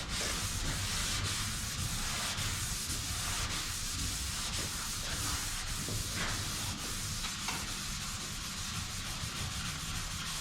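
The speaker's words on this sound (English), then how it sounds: "you get your mind set with one way of sanding, you know, with the sanding block" Steady hand sanding of a car body rasps continuously, a close, even scratching with slight strokes, no voices.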